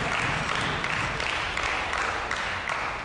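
A crowd at an independent wrestling show cheers and applauds, forming a continuous dense wash of clapping and shouting that stays loud throughout.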